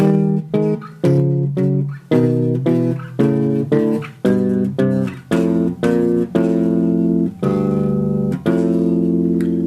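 A rapid series of plucked bass guitar notes, rhythmic and repetitive with brief gaps, played solo and loud with no voices.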